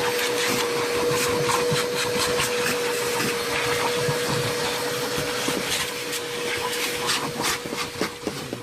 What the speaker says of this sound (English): Vacuum down the car